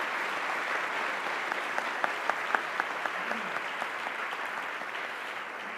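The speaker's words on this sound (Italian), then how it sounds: "un applauso per Carlo Sangalli" Sustained audience applause at the 2022 Economy and Development awards ceremony in Italy, greeting Carlo Sangalli, president of Confcommercio; a steady, moderately faint wash of many hands with a few sharper claps standing out.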